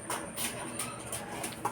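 Racing pigeons cooing softly in a home loft, a few low repeated coos rising and falling over a steady background hum.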